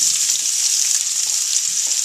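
Zucchini sizzling loudly in a pan on the stovetop for a ratatouille, a close, steady hiss of frying with no pauses and no voices.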